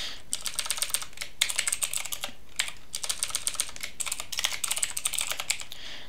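Steady typing on a computer keyboard, with bursts of quick, close keystrokes separated by short pauses as HTML headings are entered.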